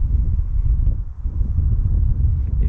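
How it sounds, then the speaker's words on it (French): Strong wind blowing outdoors beside a 2019 Volkswagen Golf R, buffeting the microphone in loud, low rumbling gusts that rise and dip continuously, with no voices. "il y a beaucoup de vent aujourd'hui"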